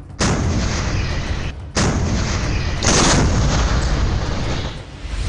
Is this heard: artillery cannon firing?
yes